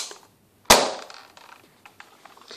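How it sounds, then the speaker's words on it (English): A Nerf N-Strike Elite toy blaster modded with a spring fires one sharp, close pop, followed by faint clicks and handling rattles as it settles. "listen how powerful this gun is"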